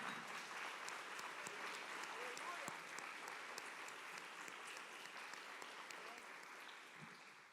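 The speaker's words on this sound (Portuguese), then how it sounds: "Vamos dar uma salva de palmas agradecendo ao Senhor por isso?" A church congregation applauds in thanks, a sustained dense patter of many hands clapping that fills the room steadily and fades slightly toward the end.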